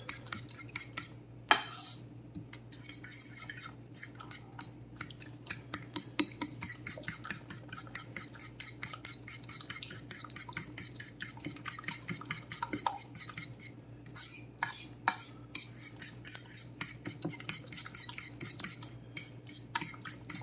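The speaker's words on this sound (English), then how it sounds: "Okay, we mix that up pretty good." A utensil stirring about a cup of cheese into a pork casserole in a dish, giving steady, close scraping and clinking strokes over a low background hum.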